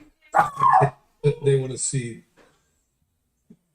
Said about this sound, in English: Oh, no, that's a dog.